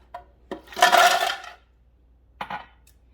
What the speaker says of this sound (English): to the blender, we are going to add a cup of ice.